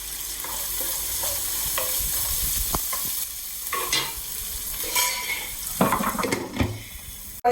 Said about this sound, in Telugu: ఉల్లిపాయ వేగటానికి మనం ఉప్పు యాజ్ యూజువల్గా ఉప్పు వేసుకుంటాం తొందరగా మగ్గిపోతుంది